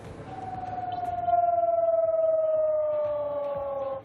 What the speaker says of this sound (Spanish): Durante más de 3 horas sonaron las sirenas de ataque aéreo en esta ciudad fronteriza.